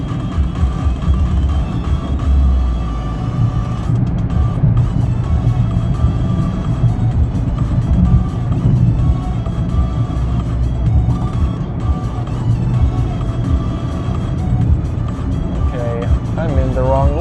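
A Mitsubishi Mirage pulls away gently on a steep road, heard from inside as a steady, loud engine drone mixed with road rumble, while a person talks over it most of the time.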